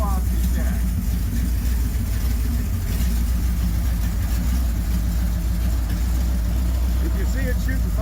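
A 440 big block Mopar engine with a homemade velocity stack, running loud and rough close by, with a steady low rumble and uneven pops as it kicks back.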